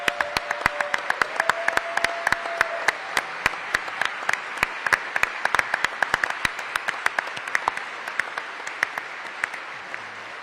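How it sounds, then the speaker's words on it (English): At a city budget engagement forum, an indoor crowd gives a big round of applause, with steady dense clapping that carries on evenly for about ten seconds. "Let's give them a big round of applause."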